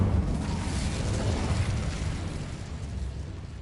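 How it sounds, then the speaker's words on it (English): A fire spell cast in the video game Hogwarts Legacy gives a sustained, roaring whoosh of flame with a heavy low rumble that holds steady for a few seconds before easing slightly, loud and close, with no talking over it. "Incendio."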